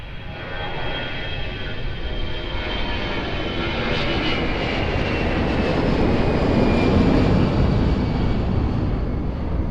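Airliner on takeoff roll at Lisbon Airport, a broad engine roar heard from a distance that builds steadily in loudness and stays continuous throughout, with a faint high whine above the rumble.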